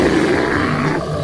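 Bear roaring, a single loud, close, rough growling roar lasting about a second, alone without speech.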